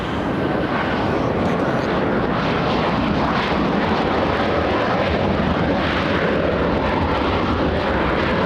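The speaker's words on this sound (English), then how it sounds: "United Airlines, United 387 flying in from Vancouver, a 737-800" United Airlines Boeing 737-800 jet arriving at LAX from Vancouver, its engines producing a loud, steady broadband roar with no break from start to finish.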